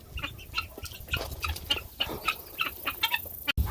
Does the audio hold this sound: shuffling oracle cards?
no